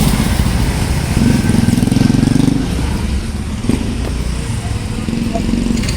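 A motorcycle engine runs loud and close with a steady low rumble that swells briefly as the bike is ridden into a garage, with a clatter partway through.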